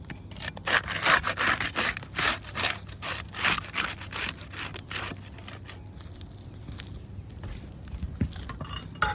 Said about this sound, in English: We'll use the putty knife to unseal the top shingles.